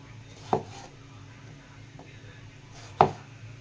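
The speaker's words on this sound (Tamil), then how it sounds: "கத்திரிக்காய் சைஸுக்கு ஏற்ற மாதிரிக்கு நீங்கள் பீஸ் போட்டு கட் பண்ணணும்." Knife chopping eggplant into pieces on a cutting board, two distinct sharp cuts spaced a few seconds apart with a faint tap between, close and otherwise quiet.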